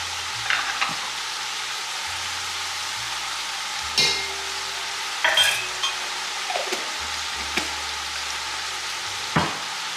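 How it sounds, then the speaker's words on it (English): Garlic sizzles steadily in a pan while a utensil stirs it, with a few distinct scrapes and clinks against the pan over a continuous close frying hiss. "Let that cook and stir."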